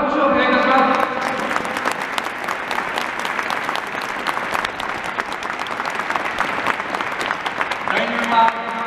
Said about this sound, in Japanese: この素晴らしい選手スタッフに皆様もう一度拍手をお願いいたします